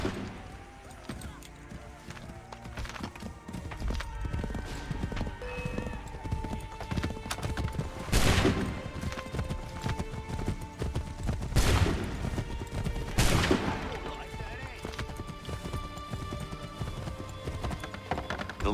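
Galloping horse hooves in Assassin's Creed 3 clatter steadily and close, joined by whinnies and bursts of gunfire volleys, with game music and ambience underneath.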